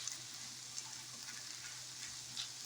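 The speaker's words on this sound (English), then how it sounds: "Go ahead and throw some chopped cabbage in here and let that reduce down with the meat." Chopped cabbage and ground meat frying in a pan, a steady close hiss of sizzling that runs unbroken throughout with faint crackles and no voices.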